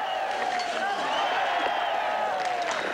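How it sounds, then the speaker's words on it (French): Dense, steady crowd applause with scattered cheers rings out around the shooting range at the 1997 men's 10 km biathlon world championships in Brezno-Osrblie as a Slovak biathlete shoots. It sounds continuous and somewhat distant for the whole stretch. "Là on entend des applaudissements parce qu'un Slovaque est sur le pas de tir."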